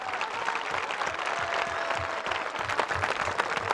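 Sustained applause from a group of helpers at an outdoor stone-pattern project in India, a dense steady patter of many hands clapping at close to moderate distance with a faint voice beneath.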